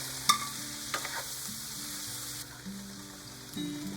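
Shrimp frying in a pan while spinach is sautéed, heard as a soft, continuous sizzle with a few clicks of stirring and a faint background hum, and no talking.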